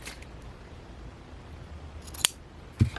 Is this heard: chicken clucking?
no